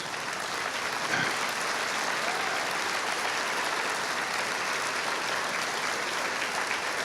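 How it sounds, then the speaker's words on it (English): Sustained audience applause fills a celebration-of-life memorial gathering for a coach, a steady dense wash of many hands clapping at even loudness throughout, with no speech over it. "stand up and show these good people by applause how much Ruben Jordan meant to you."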